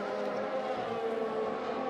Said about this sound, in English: I think all the cars sound so realistic this year, especially when you ride on board